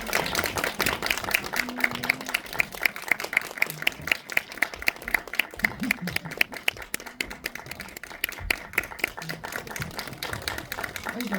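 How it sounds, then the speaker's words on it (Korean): A cinema audience at a film screening's guest visit applauds the director and four actors, with sharp individual claps over a busy crowd bed and people speaking over the clapping. "다시 한번 박수."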